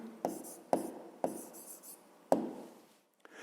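Pen or pencil writing out an answer on paper: four short scratchy strokes in an uneven rhythm, close and fairly quiet, with a faint voice near the end.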